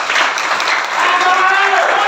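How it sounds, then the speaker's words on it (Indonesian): Applause at an organizational meeting in Indonesia, a steady wash of many hands clapping from a crowd, loud and continuous throughout, with a voice faintly audible underneath. "Tepuk tangan."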